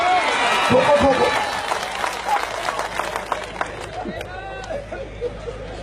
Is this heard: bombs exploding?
no